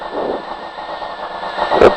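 A rally car accelerating on a special stage of the 2015 Rallye Baldomérien: a sustained engine roar that swells into a louder, sharper burst near the end.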